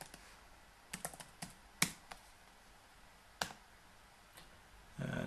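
A user ID and password are typed on a computer keyboard: a handful of sparse, crisp key clicks with irregular pauses in a quiet room, followed by a brief burst of louder noise at the end.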